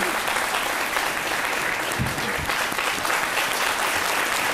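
An audience applauds steadily throughout a festive French-language television broadcast, the dense clapping sustained and fairly loud, with no voices rising above it.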